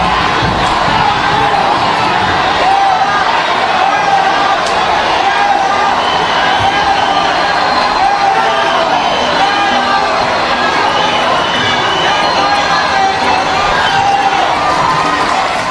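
Crowd at an open-air public rally in a plaza, loud and dense, with continuous massed shouting and jeering that stays steady from start to finish and has no single voice standing out.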